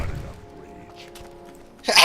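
A single sharp sneeze bursts out close and loud at the very end, after a stretch of quiet room tone with faint background game music during a World of Warcraft Classic Hardcore session.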